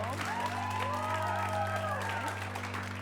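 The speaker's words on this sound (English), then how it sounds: "So we're gonna get a little nice, polite round of applause going for everyone, but then clap loudest for the film you want to see continue" Comedy club audience at an improv show claps and cheers loudly to vote for a film, with whoops and shouting voices riding over steady, dense applause.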